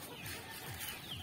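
Native chickens cluck softly in the background, a faint, distant scatter of short calls over low ambient noise.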